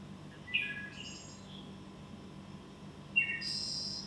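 Synthetic bird chirping generated by AI: a few thin, high tweets and short whistled calls in two brief bursts, fairly faint over a soft low hum.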